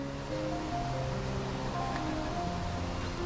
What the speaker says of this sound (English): you come out of this lock and you suddenly get hit by a massive wave from your